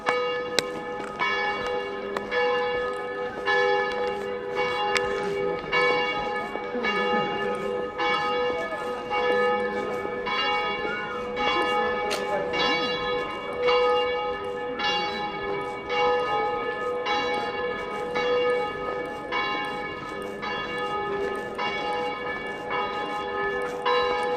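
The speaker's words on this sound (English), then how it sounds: "That's a lot of bell dongs." Church bells ring continuously in a large town square in Miyakonojo, Japan, with steady repeated strikes and rich ringing overtones sustained throughout, loud and close with faint voices underneath.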